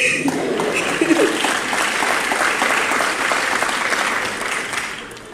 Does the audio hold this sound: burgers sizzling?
no